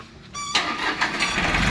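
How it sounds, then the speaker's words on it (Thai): A small three-cylinder, six-horsepower Japanese-import tractor engine cranks briefly, then catches and settles into a loud, steady running rumble close by. "เอาติดเครื่อง"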